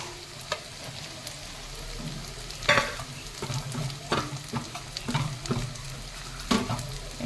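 Onions frying with garlic leaves in a pan, a steady sizzle under repeated scraping stirs and scattered clacks of the spoon, close and moderately loud, with no talking.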